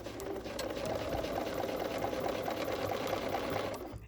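A sewing machine stitches through quilt fabric beside blue tape with a fast, even mechanical whir and rapid needle chatter. It runs close and continuous, with no voices.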